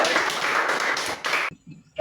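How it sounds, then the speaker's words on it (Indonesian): Classroom applause from a group of students, a dense burst of many hands clapping together close by that cuts off abruptly, leaving a few faint scattered claps and murmurs. "beri tepuk tangan untuk kita semua"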